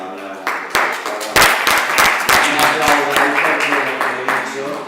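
Audience at a culture forum in Granada on books and reading breaking into loud, close applause that quickly builds to sustained clapping with sharp individual claps throughout.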